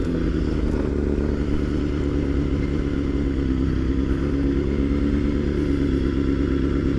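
A Honda CBR250RR motorcycle rides along a road, its engine holding a steady, busy buzz with wind rush throughout, close and continuous with no talking.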